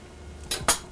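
A knife slices through an onion: two crisp, quick cuts about a fifth of a second apart, close and clear against near silence.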